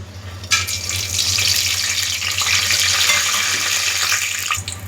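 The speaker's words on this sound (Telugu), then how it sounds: "వేగిపోయినాయండి పలావ్ దినుసులు" Whole pulao spices frying in a mix of oil and ghee, a steady bright sizzle that rises after a brief start and holds near and loud throughout, with no talking.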